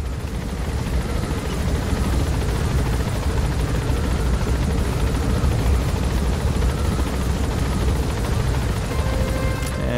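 Loud, steady helicopter rotor drone from Metal Gear Solid V: The Phantom Pain, heard from the cabin as a dense, unbroken roar that fills the full ten seconds.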